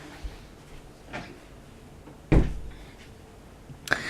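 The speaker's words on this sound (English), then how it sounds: "Just going to shut the door, because the dog has just opened the door." A door is pushed shut indoors with a soft thud, among a few quieter knocks and rustles in a hushed room.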